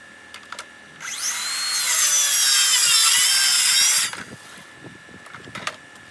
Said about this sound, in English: We're going to be using a 36 volt plunge saw.